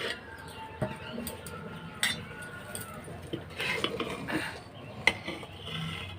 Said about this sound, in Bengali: এবার আমি ঢাকাটা খুলে দেখছি।